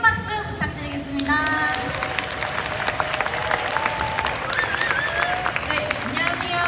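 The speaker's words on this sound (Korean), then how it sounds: "큰 박수 부탁드리겠습니다" An audience at a youth talk event applauds steadily and fairly loudly for several seconds. Brief speech is heard at the start, and there are some scattered shouts.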